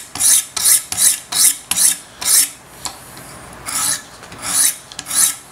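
Rasping strokes of a large Chris Reeve Sebenza 21 Insingo blade drawn across Wicked Edge sharpening stones while a micro bevel is set: about ten even, close strokes in steady rhythm, with short pauses between them and no voices.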